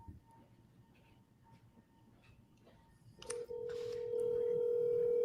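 A telephone is double dialed: quiet background murmur, then keypad tones followed by a steady ringing tone that holds on to the end.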